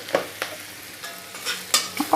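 Frying in a pan for a chital fish curry with green peas, tomato and raw green chilli, a soft sizzle under several quick, sharp spatula scrapes and taps, close and alone.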